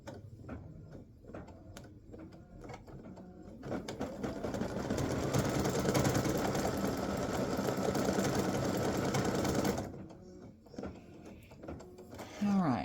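A sewing machine stitching an appliqué bow, running in a fast, steady rhythmic whir for several seconds, close and loud, with quieter mechanical ticking before and after, no talk.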